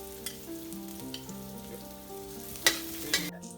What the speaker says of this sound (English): First, we start by frying half the shallots.